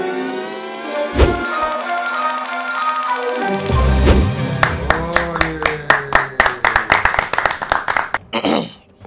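A short burst of clapping rises late in a football-themed discussion, a run of sharp separate claps growing quicker and denser before cutting off, following low sustained tones and speech.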